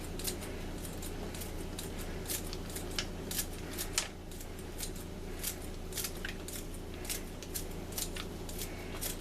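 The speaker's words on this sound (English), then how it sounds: "Going to take the tarragon first and cut it with my poultry shears." Poultry shears snipping fresh tarragon in a home kitchen, a quick run of sharp, crisp clicks and cuts repeating irregularly over a steady low background hum, close and fairly quiet.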